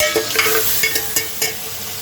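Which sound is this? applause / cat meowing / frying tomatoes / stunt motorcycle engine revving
frying tomatoes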